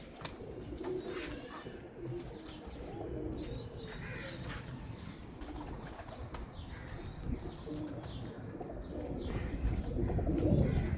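Old pigeons coo in soft, repeated throaty calls, with bursts of wing flapping and light chirps over a constant background murmur.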